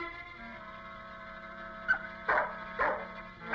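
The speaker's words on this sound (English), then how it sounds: "That dog's barking might have alerted them" A dog barking a few times at moderate distance, three short sharp barks near the end over a steady background hum, with no talk.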